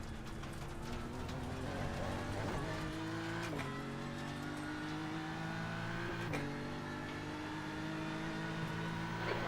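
A race car practising for the Nurburgring 24 Hours roars steadily, heard loud and close from onboard, with the engine note rising through the gears and abruptly dropping at shifts during a continuous run.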